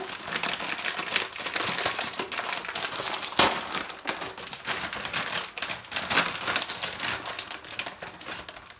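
Crinkly plastic packaging of an instant noodle pack is torn and rustled open close to the microphone, making dense crackling and crumpling that lasts the whole stretch, with a sharp tear in the middle.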